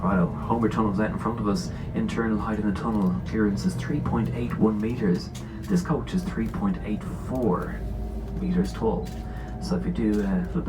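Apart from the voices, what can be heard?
No everyday noise stands out behind the speech.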